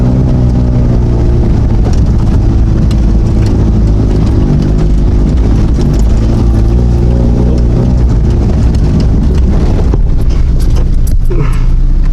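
A lifted Honda Civic with an automatic transmission rolls along an off-road OHV park trail, its engine droning loudly and steadily with rumbling low tones and occasional rattles and clunks from the body, close up.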